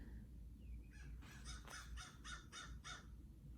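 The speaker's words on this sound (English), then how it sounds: "And the crows are back." Crows cawing outdoors in a quick run of about six harsh, evenly spaced calls, fairly near and clear over a low steady background hum.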